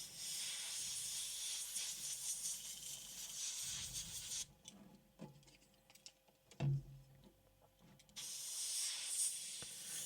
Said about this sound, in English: Keep spraying